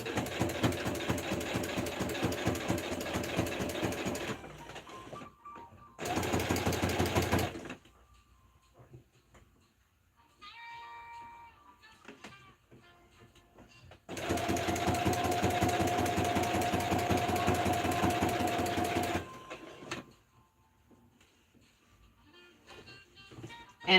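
A sewing machine stitching a pocket onto denim jeans runs in several bursts of fast, steady mechanical whirring a few seconds long, with quiet pauses and small handling clicks between them.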